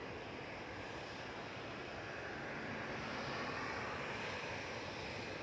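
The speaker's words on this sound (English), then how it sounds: "This is flight 728 ET80Y and A350-900, just using the whole of 2-3 right to stop and" Airbus A350-900 airliner braking on runway 23 right at Manchester Airport after landing, a faint, distant, even engine rumble lasting a few seconds without voices.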